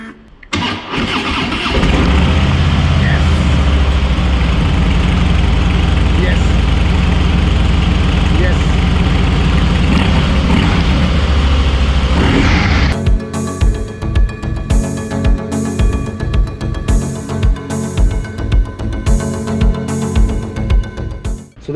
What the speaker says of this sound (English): hopefully the engine should crank